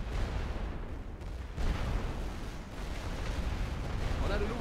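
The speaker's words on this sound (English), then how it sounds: "I sure loves its artillery" Artillery fire booms continuously through a World War I battle in the game The Great War: Western Front, dense, rumbling blasts layered over shouted voices.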